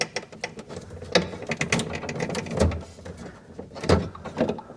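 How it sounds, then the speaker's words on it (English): Old water filter on a Whirlpool French door fridge being twisted counterclockwise out of its housing, giving a run of close, faint plastic clicks and ratcheting scrapes with no talk. "take the old filter and twist it counterclockwise"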